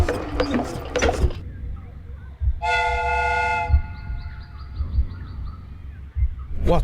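A replica train mechanism in the Sherlock Holmes Crimes and Punishments video game gives a clear steam whistle blast of about a second amid clanking, whirring gears, with a voice talking at the start.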